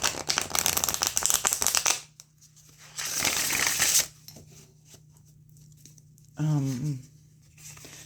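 A thick mass-market deck of playing cards is shuffled in two bursts of rapid, close riffling and rustling, separated by quiet handling, with a brief voice near the end.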